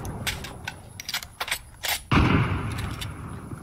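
Fortnite gunfire: a string of sharp, separate shots crack out in the first two seconds, then a heavier burst erupts into a sustained loud roar of firing that keeps going to the end.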